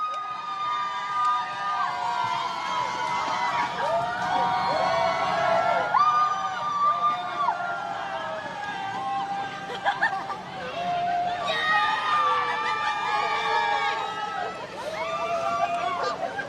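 A crowd of supporters cheers along the route of an open-top bus parade for Team Singapore Paralympic athletes, a loud, continuous wash of voices with rising and falling shouts and whoops.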